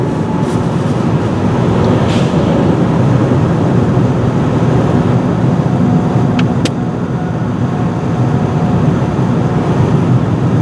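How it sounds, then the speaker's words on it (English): A train rumbles past in a Russian suburb, a continuous broad roar of wheels and cars at moderate distance, steady for the whole stretch with no voices. "And the train is going here."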